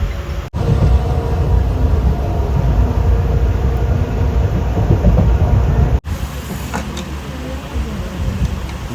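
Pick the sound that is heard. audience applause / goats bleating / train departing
train departing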